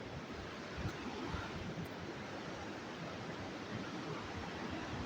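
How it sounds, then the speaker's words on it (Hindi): Water flowing below the high walls of Gagron Fort, a water fort in Jhalawar, as a steady, fairly faint rushing hiss with no other sounds. "पानी की आवाज भी आपको साफ सुनाई दे रही होगी।"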